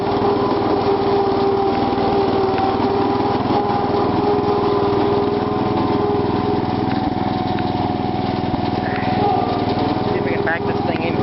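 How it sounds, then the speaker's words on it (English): An old hydrostatic lawn tractor engine runs loud and steady at close range, a constant droning whine with no letup. "These old hydros are so loud sometimes"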